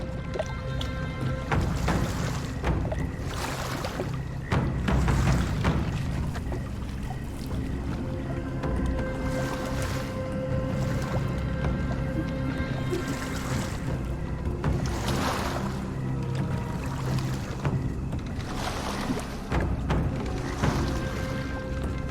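A rowboat is rowed through the Louisiana bayou in Sherlock Holmes: The Awakened, with rhythmic oar strokes splashing and dripping every few seconds over steady water lapping and ambient swamp noise.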